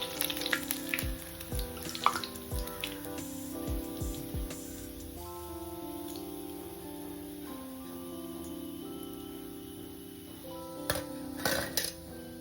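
Alasanda palakura vadas, spinach and black-eyed pea fritters, fry in hot oil with a steady close sizzle, joined by occasional clinks of a metal spoon or slotted ladle against the pan.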